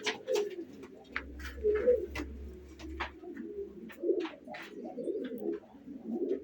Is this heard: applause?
no